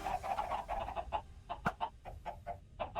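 Chickens cluck repeatedly in the Minecraft Cobblemon server game, a steady run of short, fairly close clucks with one sharper burst partway through, over a faint background hum and no talking.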